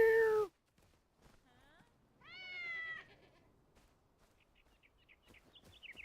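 A cat meows in the video game Enshrouded, a sharp call followed by a few softer, higher mews and bird-like chirps against a quiet background.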